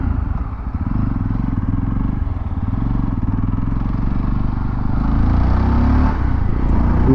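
A Yezdi Roadster motorcycle is ridden at a steady pace, its engine giving a loud, continuous low thrum with a slight rise toward the end.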